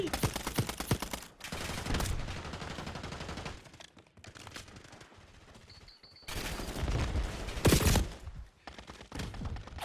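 Rapid bursts of gunfire in Warzone Mobile, loud and dense, with heavy volleys broken by a short lull and then resuming.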